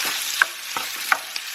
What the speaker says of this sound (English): Add a bit more oil to the pan if needed, and in goes the beef